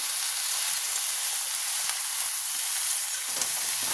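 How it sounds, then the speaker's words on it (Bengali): Mixed vegetables with salt fry in a pan and get stirred, a steady close hiss of sizzling oil with faint scraping movements throughout and no talking. "সবজিগুলো কিন্তু আমি এখন দিয়ে দিচ্ছি। দিয়ে দিলাম নুন। এখন ভালো করে নেড়ে চেড়ে দেবো।"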